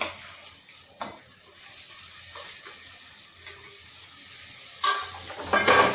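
Washed moong and moth beans drop into a pan of sizzling spices, giving a soft frying hiss with a few stirring clinks, then a wetter louder splash and crackle near the end.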